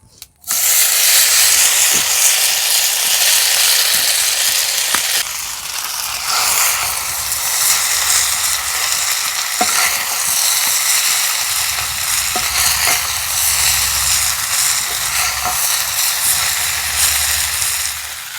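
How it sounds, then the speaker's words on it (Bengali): Hand-cut noodles fry in oil in a small frying pan, giving a steady, loud sizzle throughout with occasional scraping and stirring clicks, no talking. "প্রথমে নুডলসটা একটু ভেজে নিচ্ছি।"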